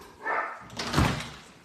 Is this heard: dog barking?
yes